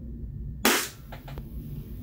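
A Glock 35 airsoft pistol firing a 0.20 BB through a chronograph, one sharp close crack with a brief decaying tail, followed by faint mechanical clicks.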